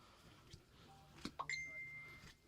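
A short bright ding from a phone notification, faint and a little distant in a quiet room, with a few soft clinks and handling noises around it and no speech.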